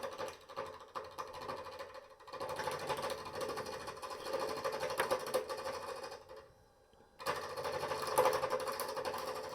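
Resin being turned and cut on a wood lathe, giving a steady rough scraping whir that drops briefly to near quiet before resuming at full level, with no talking.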